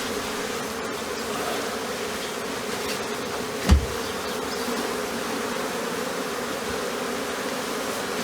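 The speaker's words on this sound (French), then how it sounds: "Les abeilles sont assez calmes. Hein. Elles ne sont pas agressives du tout." Africanized honey bees, a calm swarm settled on a transport frame, hum in a steady, close, continuous drone, with one brief soft knock partway through.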